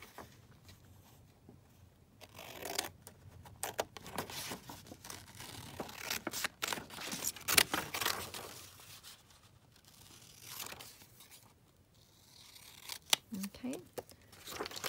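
Scissors snip and rustle through paper while cutting out a picture for a junk journal, giving close, intermittent crisp cuts and crinkles in a quiet room.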